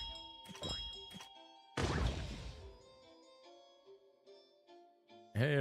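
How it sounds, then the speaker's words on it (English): A bell is rung in the Neverness To Everness game, giving one loud struck ding with a bright ringing tail, then quieter tones, with a second strike at the very end. "Ring bell."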